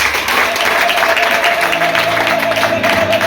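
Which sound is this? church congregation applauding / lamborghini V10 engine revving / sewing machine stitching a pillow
church congregation applauding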